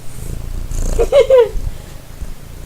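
A cat purrs close by with a steady low rumble, joined briefly by a rising tonal meow-like sound in the middle of the stretch.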